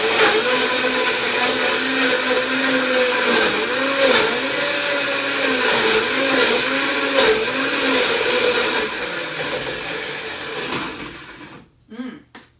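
A high-speed blender such as a Vitamix or Blendtec runs loud and steady on a festive holiday recipe, its motor note wavering as the load shifts, then spinning down and cutting off near the end.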